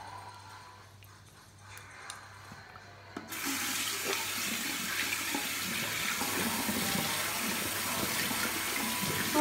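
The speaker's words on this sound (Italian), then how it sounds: "Ora mi risciacquo tutto ovviamente. Con l'acqua fredda, non troppo fredda, ovviamente." Tap water running into a sink while rinsing the face with cold water, starting quietly and then turning into a steady, loud close gush.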